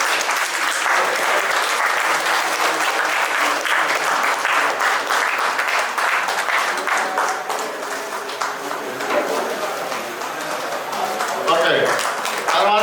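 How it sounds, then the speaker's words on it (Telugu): Audience at a silver jubilee sports academy ceremony claps in sustained, dense applause that carries on throughout, loud and close, with voices mixed in underneath. "చప్పట్లు కొట్టాలండి"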